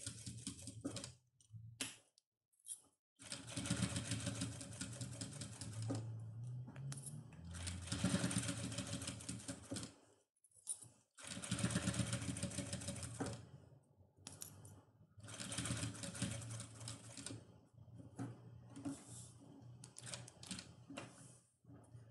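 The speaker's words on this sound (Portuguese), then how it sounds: "vou continuar fazendo esse pesponto" A sewing machine topstitches in several separate runs of a few seconds each, broken by short pauses, close and moderately loud with no talk.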